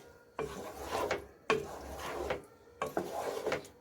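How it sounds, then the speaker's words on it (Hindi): A spoon scrapes and rubs through methi chicken with curd in a pan on a low flame, three slow rasping strokes separated by short pauses, close and moderately quiet. "और हमें हल्के हाथों से ही चलाना है चम्मच, अदरवाइज पीसेस टूटना स्टार्ट हो जाएंगी।"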